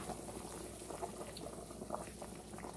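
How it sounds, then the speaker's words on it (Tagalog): Beef bone soup bubbles at a steady rolling boil in a pot, a dense, continuous burble of popping bubbles heard up close with no talking. "kumukulo na siya."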